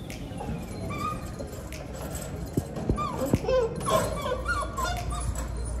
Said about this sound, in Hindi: देखिए कितना भौंक रही है।